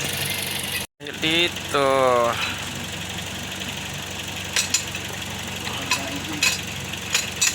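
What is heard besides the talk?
Toyota Vios engine idling and revving with coolant bubbling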